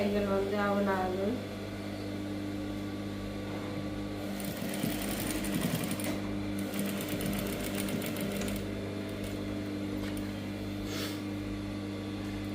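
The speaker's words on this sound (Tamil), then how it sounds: "அப்படி முக்கோணமாக அப்படி தையல் போட போகிறேன்" Sewing machine stitching a lined saree blouse, a steady close mechanical hum running throughout, with a short burst of speech-like tones at the very start.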